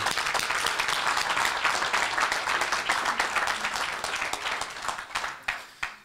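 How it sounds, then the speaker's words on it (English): A room at an economic accountability summit breaks into sustained applause for Bruce, many hands clapping steadily before it thins out into a few scattered final claps. "let's uh, give Bruce a round of applause"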